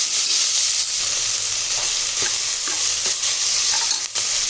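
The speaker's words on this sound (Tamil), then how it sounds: "இது நல்லா கிரேவி மாதிரி நல்லா வதங்கணும்." Chicken kulambu masala frying and being stirred in a pan, a steady broadband sizzle with occasional spatula scrapes and clicks, close and continuous, with no talk.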